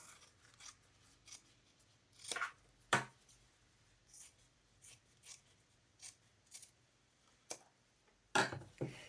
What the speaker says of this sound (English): just snip into where pivot point B is, trim off the seam allowances